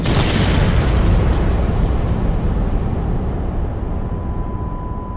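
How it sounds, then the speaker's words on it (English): A massive thunderous shockwave boom from the Toba volcanic eruption, a loud broadband roar that hits at once and slowly fades over several seconds, with no voices. "Then, the thunderous shockwave catches up."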